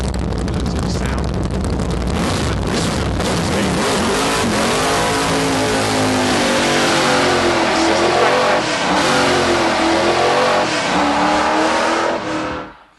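The Beast of Turin, a giant vintage car, thunders with a loud, sustained engine roar that rises and falls through revs and then cuts off abruptly at the end, with no talk over it.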